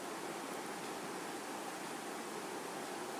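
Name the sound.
garlic and dried chillies sizzling in hot mustard oil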